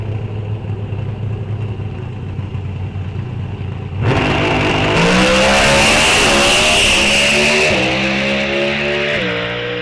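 An NHRA drag racing car at Rock Falls Raceway launches suddenly after quiet idling, then a loud, harsh engine roar climbs through the gears and holds close and dominant to the end.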